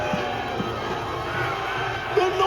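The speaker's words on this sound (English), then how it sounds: "Keep cheering. Your cheers are working." A large outdoor crowd cheers and whoops at a Battle of Hastings reenactment, a steady roar of voices with children shouting and scattered higher calls rising near the end.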